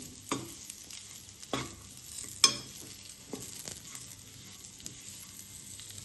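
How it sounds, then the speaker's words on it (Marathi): Dink laddu mixture being stirred in a pan, with a few sharp scraping knocks of the spoon against the metal over a faint, steady background texture, heard close with no talking. "अजून मी 1 मिनिट हे परतून घेते"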